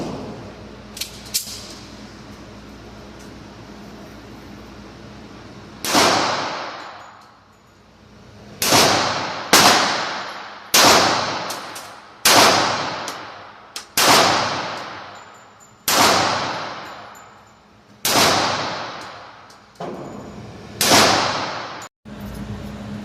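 Gunshots at an indoor gun range: about a dozen sharp, loud reports with ringing decays, spaced irregularly a second or two apart, with faint handling noise before the first shots and no talk.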